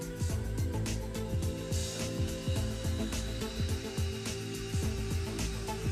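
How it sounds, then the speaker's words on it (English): Rubber cap polishing tool whirring against teeth during dental cleaning, heard as a close, busy high whine with repeated short bursts and clicks in an uneven rhythm. "The teeth are cleaned with toothpaste and polished with a rubber cap polishing tool"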